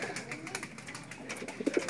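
Pigeons being kept and conditioned for derby racing coo softly and repeatedly nearby, low murmuring calls with a few clearer coos toward the end, amid faint background noise.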